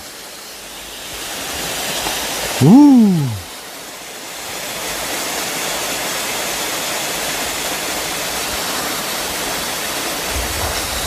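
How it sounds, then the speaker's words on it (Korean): A valley-entrance waterfall roars as a steady, loud broadband rush throughout. A short rising whoosh or whistle cuts through near the start, and a brief voice utterance is heard. "입구에 멋진 폭포가 있어요"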